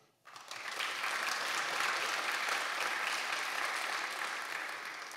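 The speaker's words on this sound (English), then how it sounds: "So I'd like to have another great applause for you all." A conference audience breaks into applause that starts suddenly and holds as a dense, even clapping from many hands through to the end, with no one speaking.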